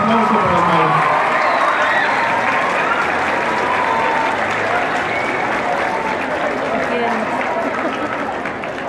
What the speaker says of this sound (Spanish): Un fuerte aplauso para el maestro